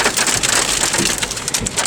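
Hail pelting down in a tornado storm in Locust Grove, Virginia, a dense, steady crackling patter of many small hard stones striking surfaces, loud and continuous with no voices.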